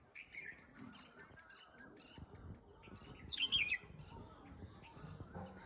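Birds chirp and call at dusk near green rice paddies, scattered tweets with a brighter burst of squawking calls midway, over a faint insect and cricket hum and soft ambient rustle.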